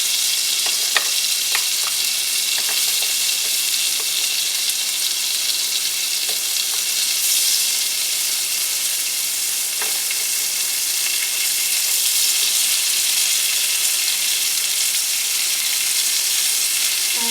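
Onion rings frying in a pan for a Salisbury hamburger steak, a steady loud sizzle with constant bright crackle and occasional small pops, continuous throughout with no talking.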